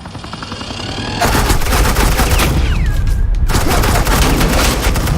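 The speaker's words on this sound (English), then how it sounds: "This is Agent Quinn, suppressing fire." Sustained automatic suppressing gunfire in Batman: The Enemy Within, loud rapid bursts that swell after a second and keep rattling densely, with a brief whooshing sweep mid-barrage.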